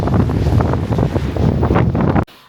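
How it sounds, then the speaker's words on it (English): Strong wind buffets the microphone in heavy gusty rumbles, then cuts off abruptly near the end. "Yeah, it's a bit windy out there."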